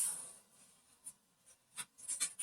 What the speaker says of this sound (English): that's me being a bad shuffler and dropping the cards